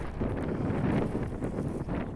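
Strong mountain wind on the Puigmal buffets the microphone in a continuous roaring rumble, loud and close, with gusty swells and no voices.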